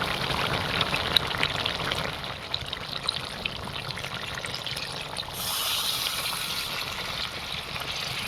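Water poured into a pot of desi chicken curry where the spice paste has released its oil, a steady soft trickling and splashing that continues throughout at low volume.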